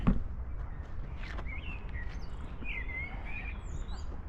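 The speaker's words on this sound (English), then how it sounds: "relax for a little moment and while enjoying the music from the birds" Birds sing and chirp in Planten un Blomen park in Hamburg, with scattered short whistled calls from several birds rising over a low, steady outdoor rumble.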